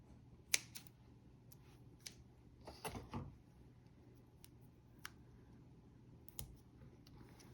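Scissors cut card paper for a Halloween card-making craft. Faint, sparse snips and clicks come at irregular moments, with a cluster of louder handling noises near the middle, over a quiet room background.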